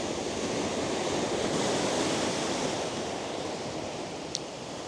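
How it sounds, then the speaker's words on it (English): Ocean waves at the north end of Carolina Beach crash against rocks, a loud, continuous wash of surf roar that fills the scene without break, with no talking over it. "the ocean is just beating the heck out of these rocks"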